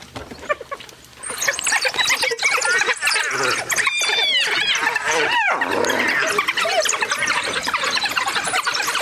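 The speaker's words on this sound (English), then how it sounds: "Wild dogs have just chased this hyena into the impala camp." African wild dogs chase a hyena through the bush of Lion Sands Game Reserve, South Africa, with loud, close squeals, yelps and chattering cries tumbling over one another almost without pause.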